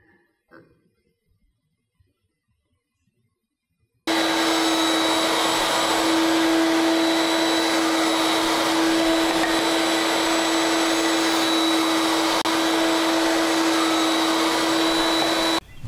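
A router mounted in a Woodpecker router plate trims wooden tenons to width. After about four seconds of near silence, a loud, steady high-pitched motor roar starts suddenly and holds continuously to the end.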